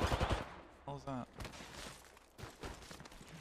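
Video game gunshots crack in a few sharp, fairly quiet bursts spread through the moment, mixed with a brief talking voice and background game noise.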